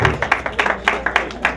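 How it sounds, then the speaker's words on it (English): Audience at a Cameroonian cultural celebration in Miami giving a short round of applause, a burst of several close, crisp claps in quick uneven rhythm. "Give me a round of applause."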